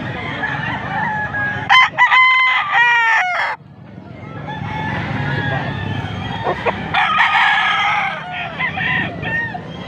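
Bull stag roosters crow loudly at a cockfighting sale venue in Pampanga, with clucking and several overlapping calls near and far. Crowd chatter and general noise run underneath.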